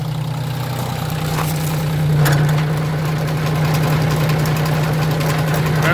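A tiller tractor engine runs with the PTO engaged and the hand throttle set, giving a steady, close mechanical drone with a constant low hum and a faint knocking texture.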